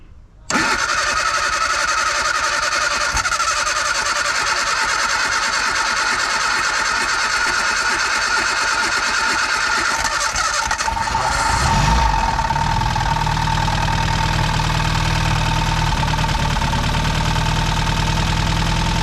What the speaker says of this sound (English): Well, it runs. It was a little bit knocky to begin with